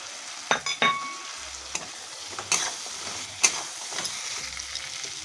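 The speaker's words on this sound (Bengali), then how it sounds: "তারপর ভেজে রাখা ছানাগুলি দিয়ে দিলাম।" Pieces of fried chhana (paneer) tipped into a pan of frying spices with dried chilli and coriander powder, giving a low sizzle broken by several sharp clinks and scrapes of stirring.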